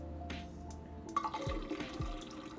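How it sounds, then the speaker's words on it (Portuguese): Kombucha poured into a container gives a faint, soft stream of trickling liquid with a few low gurgling glugs near the end, quiet and close, with no talking. "E aí a gente vai despejar a nossa kombucha inteira."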